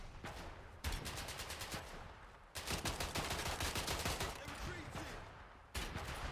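Rapid gunfire in the Atomfall video game as an enemy is shot at, with several loud bursts of shots separated by short pauses, close and dominant over background game sounds.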